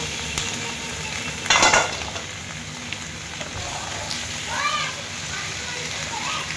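Kadaknath chicken meat fries in a hot pan with spices, giving a steady broadband sizzle with a brief louder burst as something hits the oil, while a voice speaks briefly over it.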